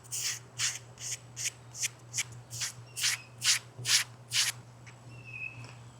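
Rhythmic back-and-forth sanding of filler on a cracked dashboard of a box Chevy Caprice, about ten even close strokes in a steady cadence with a low hum underneath.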